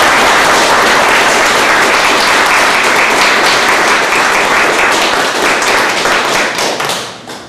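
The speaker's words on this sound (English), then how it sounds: "please join me in a round of applause for our sponsors, Mid-Coast Community Council, and for the candidates" Loud, dense applause from an audience at a water and sanitary district candidate forum, steady for several seconds before tapering off at the end.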